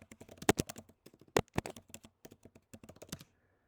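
Quick bursts of typing on a computer keyboard, close and fairly quiet, with an uneven rhythm of clustered keystrokes and a few louder taps, then stopping just before the end.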